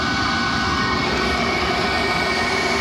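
A Chinese diesel parking heater runs on diesel fuel with a constant loud droning hum and a rough, fluttering combustion rumble underneath, steady throughout.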